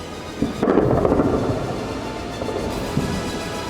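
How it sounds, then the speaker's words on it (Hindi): Heavy booming blasts from Israeli bombs and missiles striking Iran, a sharp onset followed by a long rolling rumble that fades and swells again, loud and without voices. "इजरायली बम और मिसाइलें तेहरान से बुशर तक गरज रही हैं।"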